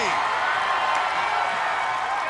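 Spectators cheering from the stands at an American Ninja Warrior obstacle course competition in Oklahoma City: a steady, broad roar of crowd noise throughout, loud and continuous.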